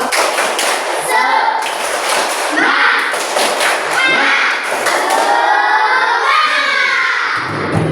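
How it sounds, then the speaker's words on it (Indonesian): An Indonesian primary school class claps together in rhythm as a spirit cheer, the crowded percussive beats steady and energetic across the whole stretch, with young voices mixed in. "Coba tepuk semangat."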